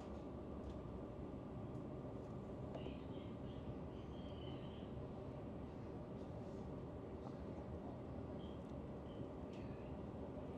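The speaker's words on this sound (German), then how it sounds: "Und da ist schon die Lokomotive." A Finnish VR InterCity train locomotive rumbles steadily at a distance, a constant low drone with faint squeals and clicks above it.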